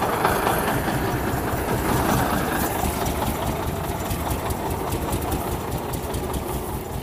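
An engine idles steadily with a dense, even rumble that stays loud and constant throughout, with no talk over it.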